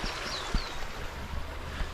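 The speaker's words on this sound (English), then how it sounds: "Nice to hear the water." Steady rushing water flows nearby, a broad continuous wash with occasional faint knocks and wind.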